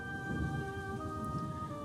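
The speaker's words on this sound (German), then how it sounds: "Überall in der Hauptstadt regnet es." Steady rain with low rumbling thunder in the Trails in the Sky video game, a continuous wash of downpour under sustained tonal background music, with no voices.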